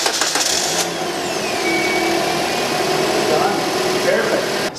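A car engine is cranked using a supercapacitor bank in place of the battery, giving a loud, continuous mechanical whir that carries steadily through the short moment.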